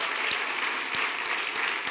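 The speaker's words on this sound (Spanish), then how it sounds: "Dele fuerte el aplauso" Congregation applauding during a church service, dense continuous clapping from a crowd filling the room evenly, loud and steady with no voices over it.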